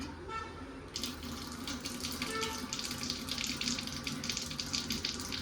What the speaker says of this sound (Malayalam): വെള്ളം വന്നിട്ടുണ്ട്.